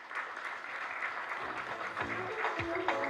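Applause fills a business banking launch event, a steady wash of clapping from a crowd in a large room. It sounds moderately distant and continuous, with faint background murmur beneath it.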